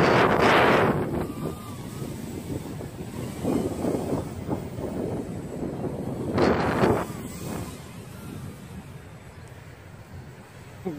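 Strong wind buffeting the microphone in rough, rumbling gusts, with louder blasts near the start and midway, no talking.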